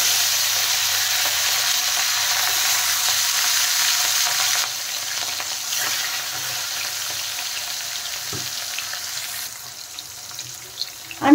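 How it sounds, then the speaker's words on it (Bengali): Pieces of rohu fish fry in smoking-hot oil in a kadai, giving a steady hiss and sizzle that softens partway through, with a few clanks near the end. "দেখেন তেল ভালোভাবে গরম হয়ে গেছে, তেল থেকে কিন্তু ধোঁয়া বেরোচ্ছে। এখন আমি মাছগুলো দিয়ে দেব।"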